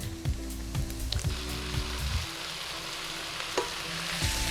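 Boiled elbow pasta is stirred around a hot pan, with a gentle sizzle under repeated scraping and clinking strokes from the utensil that slow toward the end, close and quiet, and nobody talking.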